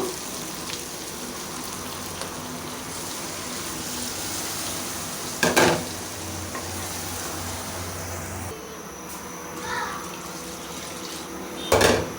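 Water poured into a pan of browned chicken curry with potatoes, a steady splashing pour under a faint hiss, with a couple of louder clatters and no voices.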